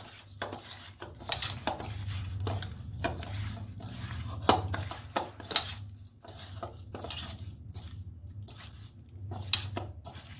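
Chitol fish pieces being hand-mixed with turmeric and salt in a metal dish, giving close, wet squishing and repeated clinks and scrapes of fish against the pan, with no talk.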